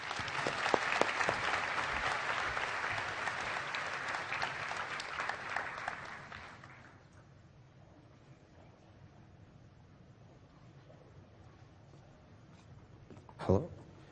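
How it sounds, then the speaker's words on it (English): Audience applause for the show choir at a high school graduation in Seoul, a fairly faint wash of clapping for about six seconds that fades into quiet room tone, followed later by a single brief bump. "Let's give the show choir another round of applause."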